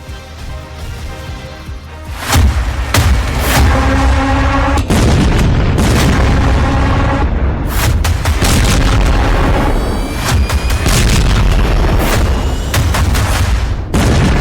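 Bombs explode during a military strike, a string of heavy booms and sharp blasts going off one after another, loud and reverberant with rumbling decay between hits.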